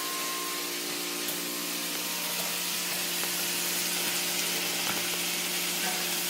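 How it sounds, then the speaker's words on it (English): Cabbage and chicken fry in bacon grease with a steady sizzle, and stirring adds faint scraping now and then. The frying stays continuous and fairly close, with no voices. "Now we'll mix this one around so that the bacon grease really gets in there."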